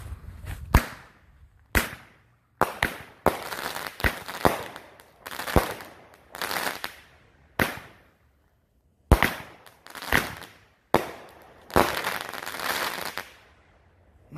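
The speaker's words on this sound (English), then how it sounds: "Love these little Top Gun 8-shot kicks." A Top Gun 8-shot consumer fireworks cake from the Sports Series firing outdoors, with a rapid run of loud sharp bangs, each followed by a brief crackling tail.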